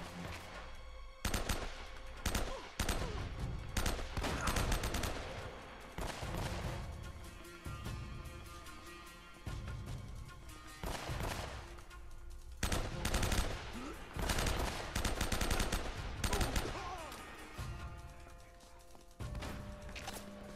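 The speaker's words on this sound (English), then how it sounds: "Oh, she's shooting over there. Okay, so I'm gonna shoot here." Gunfire in the video game Uncharted: Drake's Fortune, loud repeated bursts of automatic fire and single shots in clusters across a firefight, with a player talking at times between volleys.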